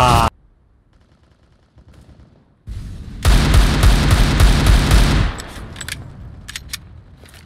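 A rapid burst of automatic rifle fire while pre-firing a corner on Vertigo in CS:GO, loud and close for about two seconds after a quiet stretch, followed by scattered faint clicks and pops.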